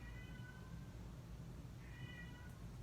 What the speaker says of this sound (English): I'm sorry if you can hear my cat meowing in the background.